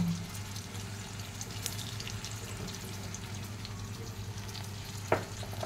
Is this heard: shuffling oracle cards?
no